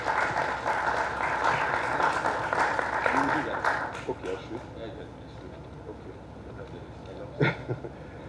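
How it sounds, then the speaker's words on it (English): Audience applause for the chairman of a panel at a regulatory conference, a broad patter of clapping for the first few seconds that thins out and fades, with scattered claps and some voice afterward. "A round of applause for him,"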